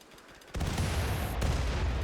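A mortar volley fires in a grassland survival video game: after a quiet start, a sudden loud burst opens into dense rumbling blasts that keep going without a break for over a second.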